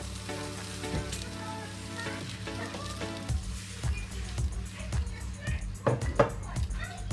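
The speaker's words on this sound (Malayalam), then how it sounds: "ചൂടുവെള്ളമാണ് ഒഴിച്ച് കൊടുക്കുന്നത്." Hot water is poured into a simmering dry fish curry with grated coconut, bringing bubbling, sizzling and stirring clatter in a pan while a person talks over it.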